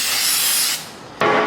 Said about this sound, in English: We can just hose it down with some carburetor spray